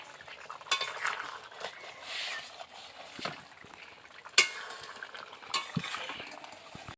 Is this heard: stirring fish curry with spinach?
yes